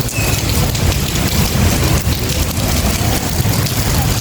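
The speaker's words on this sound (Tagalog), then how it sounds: "Tapos biglang ulan ulit." Steady, heavy rain pours down continuously, a dense hiss over a low rumble, with no voices.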